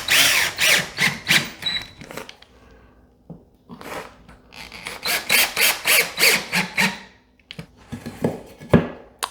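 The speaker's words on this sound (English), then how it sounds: "we're going to screw in some scrap wood to hold our new patch panel in place" A power drill drives screws into scrap wood behind a drywall patch, with repeated short whirring bursts in quick succession, some pauses between, loud and close.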